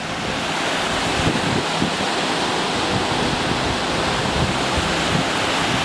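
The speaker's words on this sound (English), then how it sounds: "Flowing pretty good from the snow melt." Snow-melt creek rushing about 40 feet below, a steady, dense roar of flowing water that holds evenly through the whole stretch with no voices over it.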